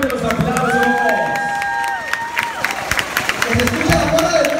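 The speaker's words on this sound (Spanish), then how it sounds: "¡Que se escuche fuerte los aplausos!" A school audience at an intercollegiate dance contest breaks into loud applause and cheering, a dense crowd roar of clapping and shouts with a voice over a loudspeaker on top.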